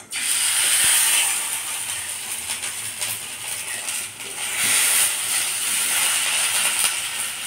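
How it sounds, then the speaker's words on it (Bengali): Ground taro paste hits hot oil in a wok with a loud, bright sizzle and hiss that holds steady, dips briefly, then swells again, crackling close by without any talk. "এবার কড়াইতে তেল নিয়ে নিয়েছি, তেলটা যেই গরম হবে তারপর দিয়ে দেব এই কচুটা।"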